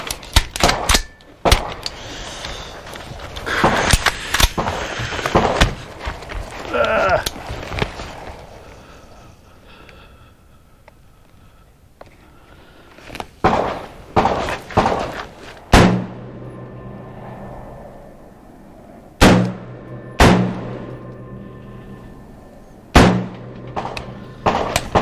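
A Heckler & Koch MR556 A1 AR-15 rifle fires at a gun range while its scope is zeroed: loud, sharp single shots spaced several seconds apart with echoing tails, and a cluster of rapid impulsive sounds at the start.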